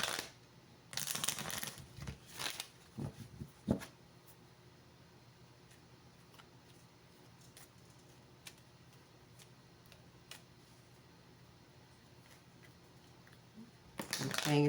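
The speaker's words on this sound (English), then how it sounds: "I'm just going to go ahead and shuffle these cards up a bit." Tarot cards shuffled by hand at close range, with a few soft rustling, flicking bursts in the first seconds, a long quiet stretch, then another brief shuffle at the end.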